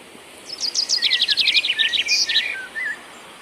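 Spring birdsong outdoors: a bright run of rapid chirps and trills, fairly close and clear over a quiet background, fading out after about three seconds.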